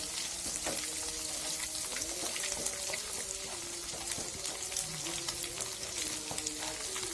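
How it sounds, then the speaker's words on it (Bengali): Onion and egg fry in a pan for pasta, giving a continuous moderate sizzle with crackles, clinks and scraping of a stirring spoon against the pan, no talking. "একদম ভেজে নেব পেঁয়াজটা"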